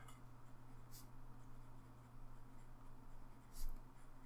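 A Moonman M2 fountain pen with a 1.1 mm stub nib scratches softly across paper in a steady, faint stroke. A louder scrape comes near the end.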